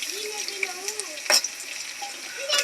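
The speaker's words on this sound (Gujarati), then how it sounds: "સરસ મજાની ડુંગળી નાખીને હલાવવા મળ્યા છે" Onion frying and being stirred in a pan, a steady sizzle with scattered scraping and clinking of the spoon, one sharper clatter midway, and faint background voices.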